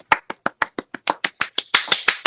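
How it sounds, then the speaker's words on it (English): A small handful of people clap in a courtroom setting, about fifteen crisp, separate claps in an uneven rhythm, close and fairly sharp, with a few overlapping near the end. "We'll make our own clapping sound."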